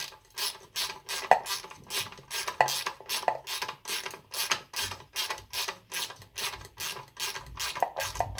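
A ratchet wrench tightens a part on a Kawasaki KV75 motorcycle, giving a steady, rhythmic series of close clicking strokes with no talking.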